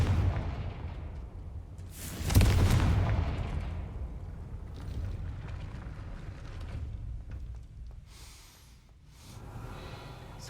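A Confringo fire spell in Hogwarts Legacy bursts with a loud, sudden blast followed by a rumbling, fading roar and scattered debris-like crackles.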